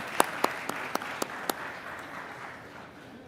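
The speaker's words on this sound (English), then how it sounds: "a round of applause for the panel" Scattered applause from a conference audience after a panel session, a few sharp claps early on that quickly fade into a soft room tail.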